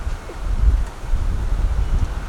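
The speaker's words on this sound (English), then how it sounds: "It is windy today." Wind gusting outdoors beside a front-yard garden of tomato plants, a steady low rumble of buffeting air across the microphone with faint rustling throughout, no voices.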